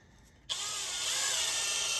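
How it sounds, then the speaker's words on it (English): A power drill spins sandpaper against a custom spinning-rod grip, starting abruptly after a brief quiet moment and then whirring steadily at a high, even pitch close to the microphone. "I also put mine on a drill."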